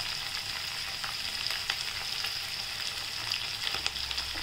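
Mixed vegetables for Hakka noodles, carrots, spring onion, capsicum and beans, sizzle and crackle steadily in hot oil, a close, continuous frying hiss with small pops and a faint stir, no voices.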